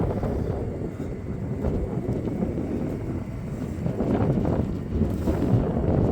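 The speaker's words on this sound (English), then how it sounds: "It is a little breezy today." Blustery wind buffets the microphone outdoors beside the ice-breaking Tanana River, a steady low rumble that swells louder in gusts toward the end, with no talking.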